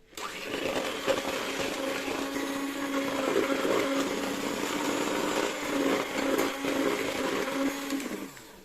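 An electric mixer beating batter with sugar whirs continuously at high speed, a steady buzzing drone with slight wobbles as the beaters work, alone without talk.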